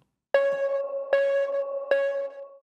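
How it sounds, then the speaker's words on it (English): Three bright synth plucks from a melodic dubstep track ring out in steady succession, each sharp attack sustaining a clean harmonic tone before the next, heard alone with no voices. "you can hear this pluck being introduced"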